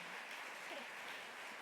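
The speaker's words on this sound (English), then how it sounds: "I love when people clap for her" Faint, distant clapping from a crowd at a women's leadership luncheon, a soft continuous patter that holds steady throughout the short stretch.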